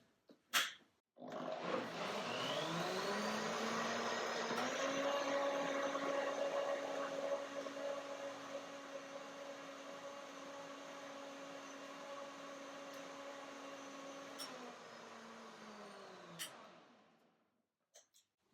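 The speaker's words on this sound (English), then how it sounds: "So I put some more water and blend one more time." A German-made Revolution blender blends walnut banana nut milk, starting with a thump and then a long, loud, steady motor whine that dips slightly in pitch midway, runs for about fifteen seconds, and winds down to a stop.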